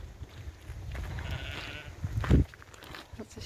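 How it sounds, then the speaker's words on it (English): Sheep in open countryside along the Pennine Way bleat outdoors, with one clear, fairly close bleat over a low rumble of wind and distant flock sounds. "Lots of sheep around."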